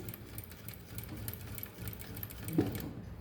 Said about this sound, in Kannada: ಸ್ಟಿಚ್ಚಿಂಗು ಶುರು ಮಾಡ್ತಿದ್ದೀನಿ ಅಂತ ಪಾಯಿಂಟ್ ಟ್ವೆಂಟಿ ಫೈವ್ ಅಷ್ಟು ಸ್ಟಿಚ್ ಒಳಗಡೆ ತಗೊಂಡು